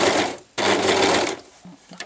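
A sewing machine stitches fabric for a ruffled placemat in two close bursts of whirring, the first short and the second longer, separated by a brief pause and followed by a few faint clicks.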